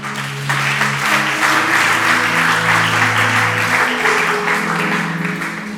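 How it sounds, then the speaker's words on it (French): A church congregation at a Sunday service claps in loud, sustained applause for several seconds, with a low sustained tone running beneath the clapping. "Aide-moi à acclamer le Seigneur."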